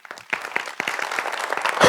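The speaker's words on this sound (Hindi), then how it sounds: "आप सबके लिए जोरदार ताली" Audience applause fills a theatre during a stage show, steady mass clapping building from a sparse start to a full, sustained roar with a louder burst at the end.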